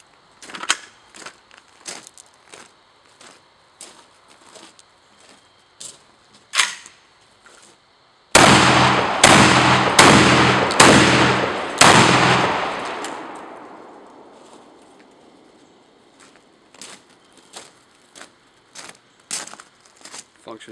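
Vepr 12 shotgun firing number 4 loads at dusk, five loud rapid blasts in quick succession with a long echoing decay, amid quieter clicks and handling noises before and after.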